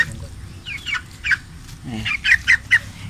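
Chickens cluck nearby in short, irregular bursts, several sharp calls bunched toward the end over a low background hum.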